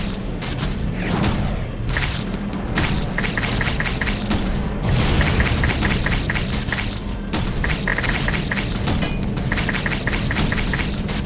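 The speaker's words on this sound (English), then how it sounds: "Shotgun." Shotgun firing in the video game Wall World, a dense steady barrage of blasts and thumps repeating without pause alongside rhythmic mechanical clatter, loud and continuous.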